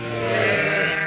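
Sheep bleat loudly and close by during lamb marking, a single drawn-out bleat with no speech.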